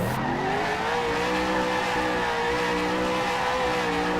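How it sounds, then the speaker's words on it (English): Race car burnouts at an ASR Super Sunday race, a loud continuous roar with tire squeal held steady throughout, close and with no talking. "He's down there doing his burnouts"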